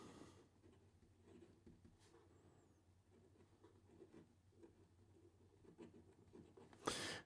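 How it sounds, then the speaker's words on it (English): An extra fine stainless steel nib on an Indigraph fountain pen writes India ink across paper, giving a faint, steady scratching that runs quietly throughout, with a brief louder rustle near the end. "Here we go with the writing sample for the Indigraph."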